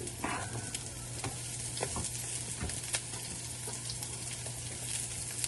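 Onion sautés in a pan for mung beans cooked in coconut milk, with a faint, steady sizzle, occasional utensil scrapes and a low constant hum in the background, with no voices.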